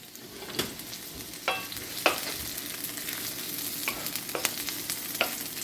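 Onions hit hot grapeseed oil for a jerk chicken stir fry and sizzle steadily. Occasional sharp clicks of stirring sound over the constant frying hiss.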